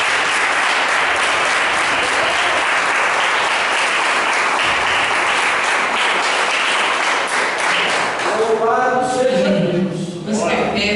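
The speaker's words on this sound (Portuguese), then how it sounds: "Dê uma salva de palmas para Jesus." A church congregation applauds during an evangelical service, loud sustained clapping that fills the space and then gives way to someone speaking near the end.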